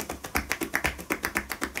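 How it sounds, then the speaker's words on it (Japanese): Cupped-hand percussive massage tapping on the body, about twelve quick hollow pops in a steady rhythm, each mixing a puff of escaping air with the slap of fingers, close and moderately loud with no talk. "ここにこう当たって空気の抜ける音と指が当たる音とで"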